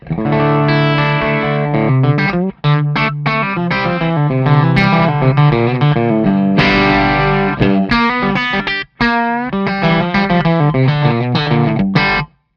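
A Telecaster electric guitar plays through the vintage channel of a Cornford Hellcat amp, with loud, continuous, slightly driven chords and notes broken by two brief pauses, alone with no talking.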